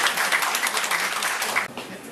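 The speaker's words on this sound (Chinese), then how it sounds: "给林老师热烈的掌声" Applause from an audience thanking a departing speaker, Teacher Lin, at a talk session: a dense, steady wash of many hands clapping at moderate volume that cuts off abruptly near the end, leaving a thinner patter.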